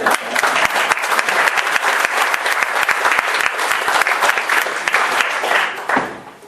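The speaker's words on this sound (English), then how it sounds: "Yeah, you can clap for her." Listeners at an informal talk with a college dean break into loud, close, sustained clapping from many hands that runs strongly for about six seconds before tapering off quickly at the end.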